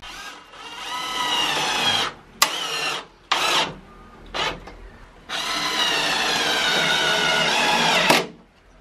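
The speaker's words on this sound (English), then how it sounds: "Now we need to screw it to the wall." A cordless power drill driving screws to fix a Funko Pop wall display to a wall, close and loud, in several whirring bursts of varying length with pauses between.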